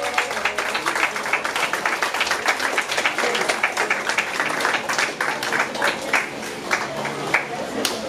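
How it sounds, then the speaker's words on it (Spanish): Audience applause at a corporate awards gathering, a continuous patter of clapping mixed with voices and background noise, moderately loud over several seconds. "Aplauso, por favor."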